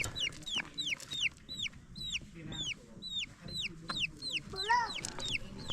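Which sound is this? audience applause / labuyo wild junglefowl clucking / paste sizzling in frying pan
labuyo wild junglefowl clucking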